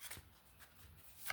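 New, stiff tarot cards are shuffled by hand, giving a few quick soft riffling bursts at the start and end with quiet rustling between, close and faint.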